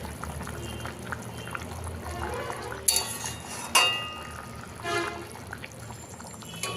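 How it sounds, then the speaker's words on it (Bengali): Raw mustard oil poured into a simmering hilsa fish curry with green chillies, two brief splashes rising over a steady low bubbling from the pot. "দিয়ে দিব কাঁচা সর্ষের তেল"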